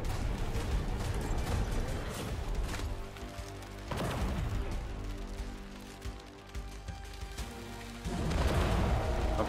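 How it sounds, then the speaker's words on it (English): Booming cannon blasts in the game Ark land in quick succession over dense music and effects, with a couple of heavy thuds standing out from the busy mix. "two cannon shots is enough to take out his thing"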